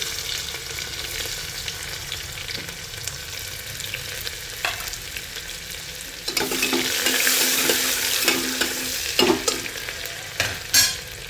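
Onion sautéing with cumin and curry leaves in a pan, a dense steady sizzle that swells louder halfway through, with occasional scrapes and clinks of a stirring spoon, close up and with no talk.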